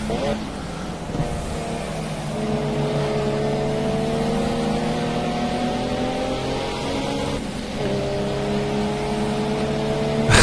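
A large car's engine drones steadily as it labours up a hill, its low hum rising slightly in pitch with the strain and dipping briefly near the end, with some speech running over it.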